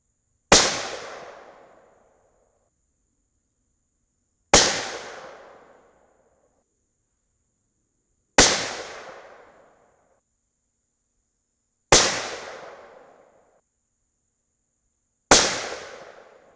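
Five suppressed gunshots are fired through a barrel suppressor at an even pace, about four seconds apart. Each is a sharp, close crack that tails off in a short ringing decay, with silence between shots.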